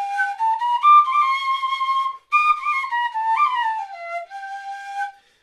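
A Slovak folk edge-blown flute with an open edge, played directly with the mouth, gives clear, breathy whistling tones in long sustained phrases with sliding pitch and a brief pause midway.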